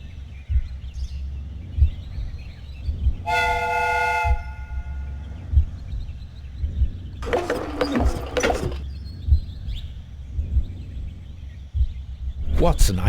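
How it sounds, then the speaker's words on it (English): A steam whistle on a replica train in a Sherlock Holmes video game gives one clear, tonal, moderately loud blast lasting about a second, over a low rumbling mechanical hum with clanks and a burst of hissing steam after it. "The steam whistle is ready to be used."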